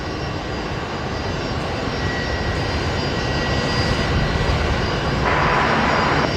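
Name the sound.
Rex Airlines aircraft arriving at Brisbane Airport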